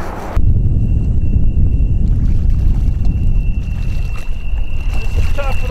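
Steady, loud wind buffeting a river fishing boat on cold open water, a continuous roar that never lets up, with a thin high whine running through it and a few soft knocks near the end.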